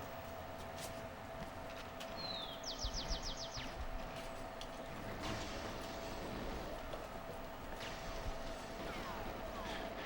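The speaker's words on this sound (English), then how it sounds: "I love the ambient sound too, like the birds chirping." Ambient birdsong in a video game's outdoor scenery: a short run of rapid high chirps near the start, then faint scattered tweets over a steady background hum.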